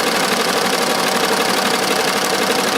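An embroidery machine stitches lettering onto the sleeve of a dress shirt, giving a steady, dense mechanical whir with rapid needle chatter that stays loud and unbroken throughout, with no talking.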